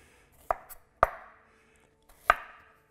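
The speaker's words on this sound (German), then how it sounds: "Weiter schneide ich Süsskartoffeln." A knife chops through washed, skin-on sweet potatoes being cut for vegetable tempura: three crisp, separate strikes on a cutting board, close and clear, with short pauses between them and no voices.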